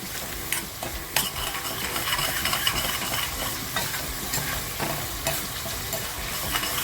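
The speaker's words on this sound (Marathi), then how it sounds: "मग आपला मसाला खूप छान फ्राय झालेला आहे" Masala for a spicy kharda crab curry frying in a pan, a continuous sizzle broken by frequent spoon scrapes and knocks against the metal as it is stirred.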